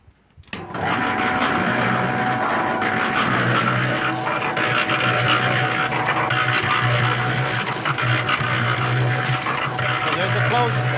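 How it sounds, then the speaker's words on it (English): A small washing machine loaded with clothes and about five gallons of water runs steadily at close range with a constant mechanical hum and churning, filling the whole stretch after a brief quiet start. "That's my washing machine."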